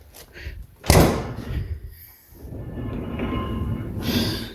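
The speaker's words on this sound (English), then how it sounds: "And close my freezer door." A household freezer door is pushed shut with one loud, close thump, followed by a low rumbling hum. A person talks nearby.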